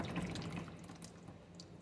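Dirty old water drains from an Allis Chalmers WD tractor into a pan, a faint continuous trickling and splashing flow with no talking.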